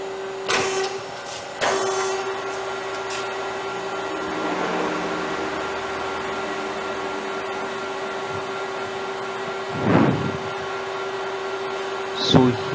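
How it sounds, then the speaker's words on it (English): An industrial hydraulic milling machine runs with a steady, fairly loud mechanical hum and a constant whine, broken by a few louder clunks near the start and toward the end. "So now let us see a actual industrial hydraulic milling machine, how it operates."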